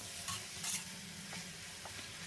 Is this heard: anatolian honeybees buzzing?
no